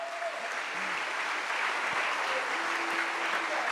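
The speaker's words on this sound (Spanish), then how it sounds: "Denle un fuerte aplauso al Señor." Church congregation applauding during a Spanish-language sermon, a steady wash of many hands clapping at moderate volume throughout, with faint tonal murmurs beneath.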